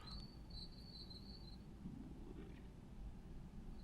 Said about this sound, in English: Okay, crickets, sure.